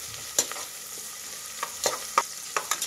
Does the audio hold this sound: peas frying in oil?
yes